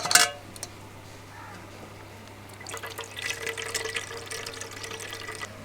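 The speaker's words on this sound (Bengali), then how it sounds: "এখন এটাকে তুলে নিয়ে বাকি রসটাকেও ঠিক একইভাবে ছেঁকে নেব।" Watermelon juice squeezed and strained by hand, a steady thin trickle and wet dripping that grows into a busier splashing patter, close and fairly quiet over a low hum.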